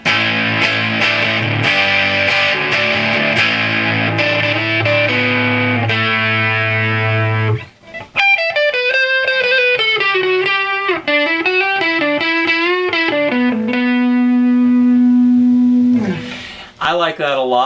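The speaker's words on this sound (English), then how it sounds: "So I really like that dirt right there." Electric guitar on the rhythm pickup through an amp with a distortion pedal, close and loud: thick driven chords for about eight seconds, then a winding melodic lead with bends and a long held note, ending in a brief scrape.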